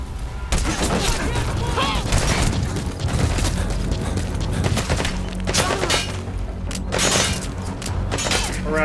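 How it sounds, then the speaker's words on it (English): Enemy gunfire in Metal Gear Solid 5, with loud, rapid volleys of shots, cracks and shattering impacts filling the whole stretch, while someone speaks intermittently underneath. "Alright, they're shooting at me as well."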